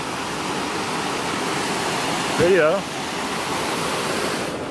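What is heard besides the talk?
waterfall in West Virginia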